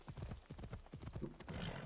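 Hooves clip-clop in a quick, even rhythm, a horse trotting nearby in Assassin's Creed Odyssey, with a brief snort near the end.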